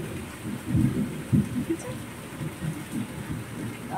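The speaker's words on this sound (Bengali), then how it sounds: "দেখো বৃষ্টি হচ্ছে" Rain falls steadily in a downpour, with low rumbling swells that suggest distant thunder rolling under the constant patter, heard alone without talk.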